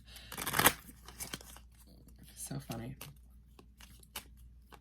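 Tarot cards being shuffled in short papery riffling bursts, loudest near the start, with a few softer shuffles afterward as a person talks briefly.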